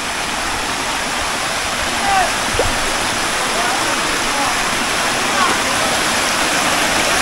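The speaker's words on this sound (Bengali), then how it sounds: "আমার পিছনে যে ঝর্ণাটা দেখতে পারতেছেন সেটা হচ্ছে ঝরঝরি ঝর্ণা।" Jhorjhori waterfall in Sitakunda roars as a loud, steady wash of falling water that fills the whole scene without a break.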